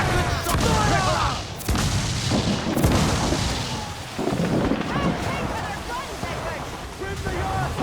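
Ship cannons fire in repeated heavy booms during a naval battle in Assassin's Creed IV Black Flag, the blasts rolling over crashing waves and rumble, with crew voices shouting orders throughout.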